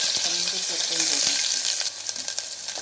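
Ginger-garlic paste fries in hot oil along with whole spices for a mutton keema cutlet. The pan gives off a loud, steady hiss and crackle close up, with faint stirring clinks and no talking.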